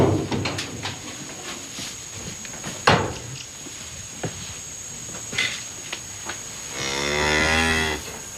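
Cattle low and moo repeatedly on a farm, several calls spread across the stretch with birds and knocking in the background and a loud, long moo near the end.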